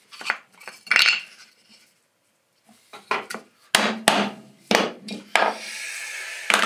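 A chisel chops into wood in a workshop, making a series of sharp, close knocks and cracks in uneven bursts separated by pauses, with light scraping between strikes.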